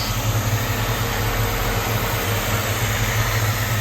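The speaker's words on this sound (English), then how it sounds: "350 cubic inch V8. You hear that it runs good." A 350 cubic inch V8 in a 1930 Ford Model A limousine idles with a steady, deep, throbbing rumble, close and loud without a break, and nobody talks over it.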